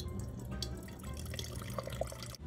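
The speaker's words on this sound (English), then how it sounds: "Fill it with good old fridge water." Water runs from a refrigerator dispenser into a small container at close range, a steady trickle with a few brief drips.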